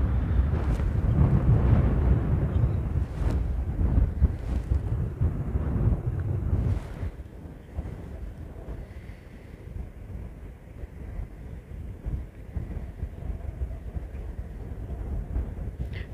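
Wind gusts buffet the microphone at night beside a lava field at Geldingadalur, loud rough rumbling at first, then easing to a lower, steadier roar.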